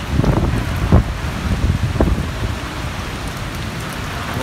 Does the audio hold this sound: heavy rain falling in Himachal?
yes